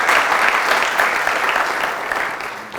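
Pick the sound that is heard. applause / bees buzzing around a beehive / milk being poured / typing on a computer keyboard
applause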